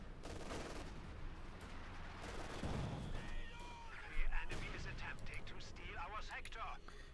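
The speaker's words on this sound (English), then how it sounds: "Machine gun holding up in a rather dilapidated building." Machine gun fire and battle noise from a World War II real-time strategy game, with a gun firing from a dilapidated building, a continuous dense rattle of shots and blasts under a commentator's steady voice.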